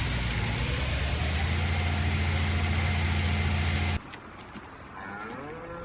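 Cattle in the Farming Simulator 19 video game give a loud, drawn-out moo over a steady engine-like hum, then the sound cuts off abruptly to a much quieter game ambience.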